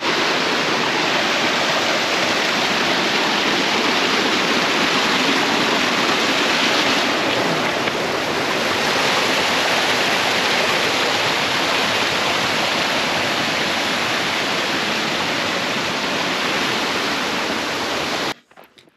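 Close, loud roar of a glacier-fed waterfall on the Tour du Mont Blanc, its spray a dense, steady rush that fills the whole clip before cutting off abruptly at the end.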